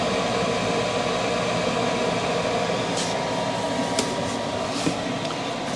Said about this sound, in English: That's the fan on the diesel heater is starting to cool, starting to slow down